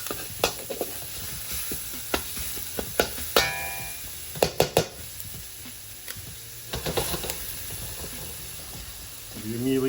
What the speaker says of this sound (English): This is a 30-second fry.